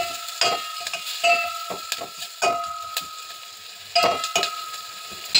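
A spoon scrapes and clinks as ingredients are stirred in a pan, making a series of irregular close taps and scrapes over a faint steady hiss.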